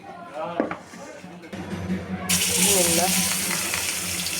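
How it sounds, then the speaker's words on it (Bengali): Rohu fish pieces coated in turmeric and salt are laid one by one into a hot kadai, and a hissing sizzle swells and holds as a voice talks over it. "আমি একটা একটা করে সবগুলো মাছ এখন কড়াই ভেজে নিচ্ছি"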